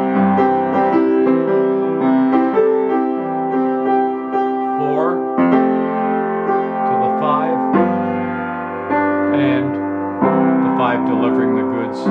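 Keyboard chord progression moving from the subdominant IV to the dominant V and resolving to the tonic I, sustained chords with a melodic line on top, played alone and fairly close.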